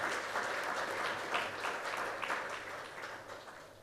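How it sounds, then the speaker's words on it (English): Audience applause at a business keynote event in India, sustained and fairly even clapping from a crowd that slowly eases off over a few seconds. "Round of applause, ladies and gentlemen."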